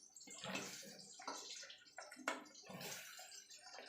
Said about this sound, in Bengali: এবার জলটা গরম হলে সিমটা দিয়ে দেবো